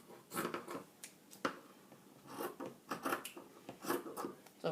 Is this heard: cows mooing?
no